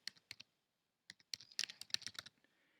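Keys tapped on a computer keyboard while typing a word into a search bar, a few isolated clicks followed by a quicker, denser burst of keystrokes, close and fairly quiet with no talking.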